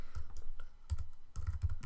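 Typing on a computer keyboard: a quick, uneven run of close, crisp key clicks with heavier thumps, continuing steadily without speech.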